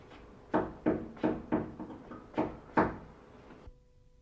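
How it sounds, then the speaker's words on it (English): A wooden door is raised off the floor with two small wedges, giving a run of about seven sharp knocks and taps in uneven rhythm, close and fairly quiet, with no talking. "lift the door off the floor."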